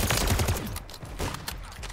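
Rapid gunfire in Call of Duty Modern Warfare II, with dense close bursts of shots rattling over heavy low rumble, continuous through the moment.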